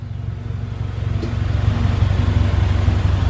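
A COBB-tuned EcoBoost Mustang engine revs loudly and steadily up close, its deep exhaust rumble building over a few seconds, with a faint sharp pop partway through.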